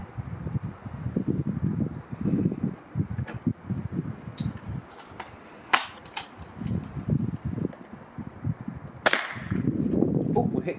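An air rifle fired at a target outdoors, with a couple of sharp sudden cracks standing out against wind, rustling and handling noise, while someone talks throughout.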